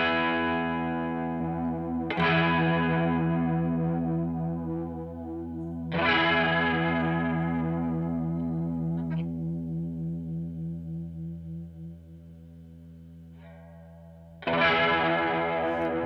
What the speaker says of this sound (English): You can see the highs of the chorus are gone.